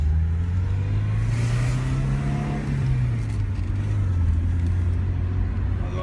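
A car engine hums steadily nearby, its pitch rising then easing back down as the vehicle pulls away.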